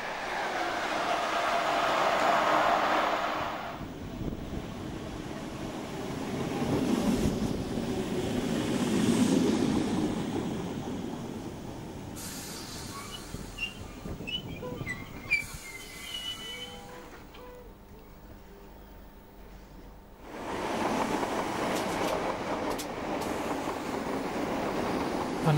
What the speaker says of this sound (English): This Class 90 was formerly operated by Virgin West Coast.